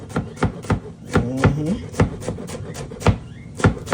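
Knife chopping scallions thin on a cutting board for Jamaican mackerel rundown, a steady series of sharp close chops with brief pauses, with a short squeak partway through.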